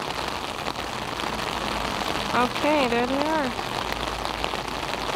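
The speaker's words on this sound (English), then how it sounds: "Oh, it's starting to rain harder now." Heavy rain pours onto a street during a hurricane warning, a dense steady hiss filling the whole stretch, with a voice talking briefly over it near the middle.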